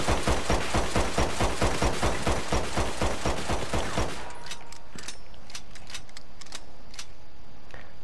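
A Mauser pistol in the video game Red Dead Online fires a quick, even string of about a dozen shots, then falls to quieter mechanical clicks and clacks as it is reloaded.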